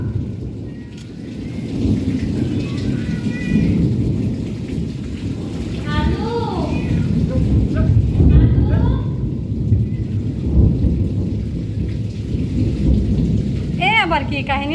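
Steady heavy rain pours during a thunderstorm, with low thunder rumbling beneath the constant hiss of raindrops; people talk briefly in the middle and again near the end.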